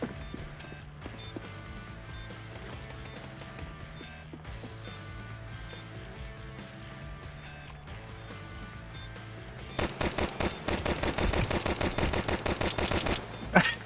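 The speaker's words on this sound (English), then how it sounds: "I'm shooting!" Rapid automatic gunfire in a first-person shooter game: after a long stretch of low background game noise, a dense, loud burst of fast, evenly spaced shots lasts several seconds near the end, with no talking.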